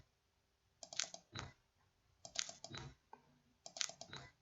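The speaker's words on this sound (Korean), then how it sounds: "더블 클릭할 겁니다" A computer mouse is double-clicked three times in a row, each time a tight pair of sharp plastic clicks, close and quiet, with short pauses between.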